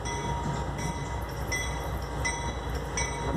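Heavy rumble of a freight train rolling past close by, with steady rhythmic clacks of wheels over rail joints and no voices.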